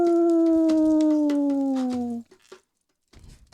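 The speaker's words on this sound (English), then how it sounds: "The howl of a wolf." A wolf howls loudly and close in a woodland near Williamsburg, one long sustained tone that slides slowly downward for about two seconds before breaking off, followed by faint rustling.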